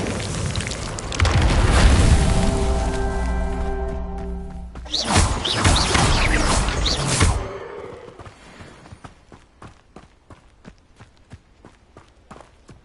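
Magical spell effects from the Hogwarts Legacy video game as the Reparo repair spell is cast: a loud, swelling rumble and whoosh, a second roaring burst, then light, rapid ticking and clattering debris settling.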